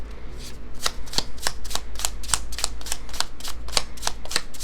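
Tarot cards being riffled and shuffled, a steady run of crisp flicking clicks repeating several times per second, close and fairly loud with no voice over them.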